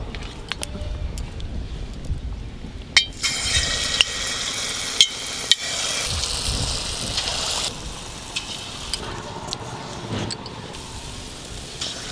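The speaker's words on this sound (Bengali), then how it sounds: "এটা ভাজলেই পুরোটা ভাজা হয়ে যাবে" Palm fritters (taler bora) deep-frying in hot oil give a steady, dense sizzle that swells after a quieter start and carries on throughout, with a few sharp crackles and pops.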